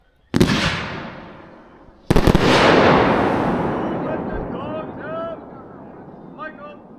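A Dominator Gold Lace firework slice firing outdoors: two sharp booming launches about two seconds apart, each followed by a long crackling, hissing tail, with faint voices near the end.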